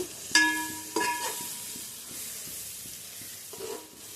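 Prawn fried rice masala being stirred in a pan of oil, with a few distinct scraping clinks of the utensil over a low, steady sizzle and no talking.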